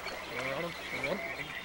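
A cartoon frog croaks in an animated tale, with two drawn-out, warbling croaks rising and falling up close over a faint background hum.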